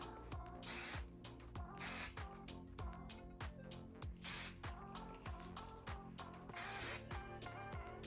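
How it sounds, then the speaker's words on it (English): Hairspray is sprayed onto styled hair from a distance in several short, breathy hissing bursts, faint and close, over soft background music. "You don't want to spray too close to your hair."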